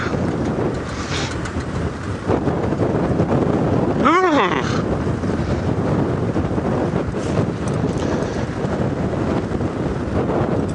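Wind buffets the microphone during an open-vehicle sunrise safari drive on a chilly morning, a loud continuous rumbling roar that fills the whole stretch, with a brief warbling tonal sweep near the middle.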